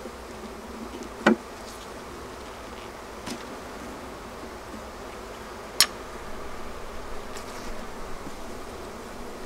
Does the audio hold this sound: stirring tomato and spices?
no